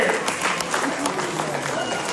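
An audience of students at a talk by Hulikal Nataraj applauds in a short, steady burst of clapping with voices mixed in underneath.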